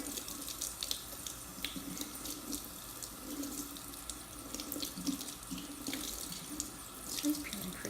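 Tap water running steadily into a kitchen sink while hard-boiled eggs are peeled under it, a constant splashing hiss with small clicks and knocks from handling throughout.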